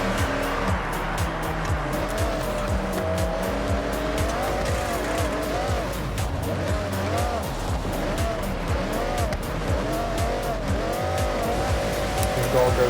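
Race cars in the video game Forza Horizon 6, engines droning and shifting pitch as they race on a lap, with repeated tire squeals, continuous and close, while someone talks over it.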